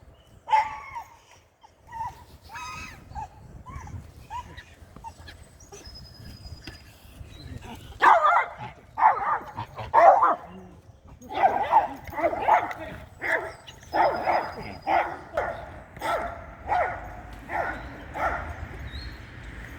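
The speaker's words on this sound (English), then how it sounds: "he must bark every time he goes past the duck pond" A dog on a lead barking repeatedly as it passes a village duck pond, sharp barks and yips in uneven bursts that grow busier and louder partway through, over faint outdoor background.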